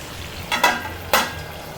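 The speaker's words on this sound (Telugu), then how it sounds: "ఇలా ఉసిరికాయల్ని మధ్య మధ్యలో కలుపుకోవాలి" Amla, Indian gooseberries, cooking in a pan are stirred, producing two short scraping swishes over a faint low sizzle, close up and without talk.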